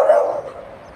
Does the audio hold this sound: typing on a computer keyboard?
no